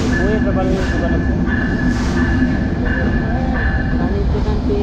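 A Benapole Express passenger train rolls along with a constant heavy rumble and repeated metallic whines from the wheels, loud and close, with murmuring voices under the noise.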